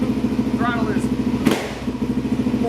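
A Suzuki DRZ400SM single-cylinder motorcycle fitted with a Lectron carburetor idles with an even, close thumping pulse, broken by a brief throttle blip midway while someone talks over it.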